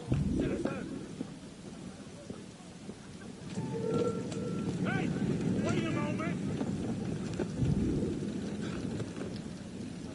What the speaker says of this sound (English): And out into the rain.